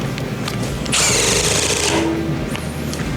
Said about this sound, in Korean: 이번엔 FQID 1 모델 한 번만 박아볼게요.